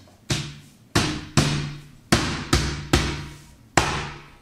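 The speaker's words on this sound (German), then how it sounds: "Und dann können wir das ganz leicht einmal reinklopfen." A panel of an IKEA Knoxhult kitchen base cabinet is knocked onto its dowels with seven sharp, resonant thumps at irregular intervals, each ringing briefly before fading.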